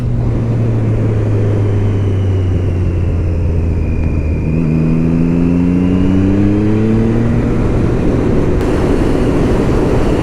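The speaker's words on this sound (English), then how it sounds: "When you hold that throttle open, it really takes off." Triumph Street Triple 675 RX motorcycle accelerating with the throttle held open, a loud continuous engine roar whose pitch climbs steadily through the middle, with faint wind noise and no speech.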